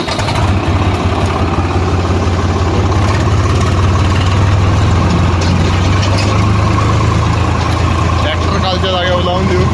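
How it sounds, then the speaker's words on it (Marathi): Farm tractor engine running on a field, a loud continuous low rumble with a steady throb, close and unbroken, with a voice talking over it. "ट्रॅक्टर कालच्या जागेवर लावून देऊ"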